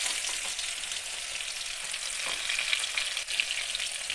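Onion frying with whole cumin in mustard oil, a steady soft hiss of sizzling at close range, with no voices.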